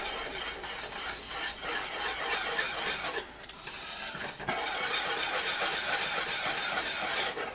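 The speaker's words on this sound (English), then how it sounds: "I'm going to turn it off and give it a stir" A spoon stirs simmering habanero pepper jam in a pot, scraping and sloshing continuously and close up for several seconds with no talking.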